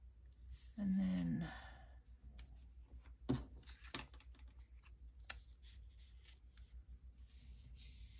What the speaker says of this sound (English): Do this one with my scissors.